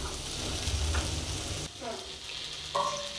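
Potatoes and onions frying in a pan, a soft sizzle with stirring scrapes, fairly quiet and close, with a brief break midway and a few clinks.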